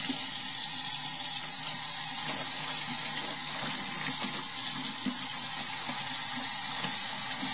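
Water sprays and splashes steadily over a fabric projection screen being washed, a continuous loud hiss like running tap water with no one speaking.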